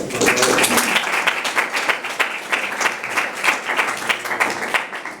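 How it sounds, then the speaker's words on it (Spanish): An audience at a talk or interview applauds, with dense, sustained clapping that rises and falls in waves, and a few faint voices beneath it. "les pido un aplauso, por favor, para Juan"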